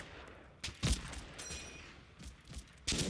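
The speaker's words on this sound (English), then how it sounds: "Continued suppressing fire from the BARs is forcing the Germans to give up their forward positions" Browning Automatic Rifles lay down suppressing fire in the Combat Mission Fortress Italy wargame, a few distant bursts and thuddy shots spaced over a few seconds, muffled and moderately loud against a faint background.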